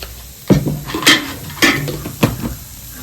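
Coconut and sugar stirred in a wok over low heat, four distinct metallic scrapes of a spatula against the pan at a steady pace, close and clear with a faint sizzle between strokes.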